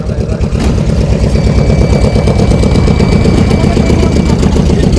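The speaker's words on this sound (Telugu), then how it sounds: "మళ్ళీ పడవ పోతుంది." A boat engine runs loud and steady at close range with a continuous low rumbling drone, out on the sea, with no pause throughout.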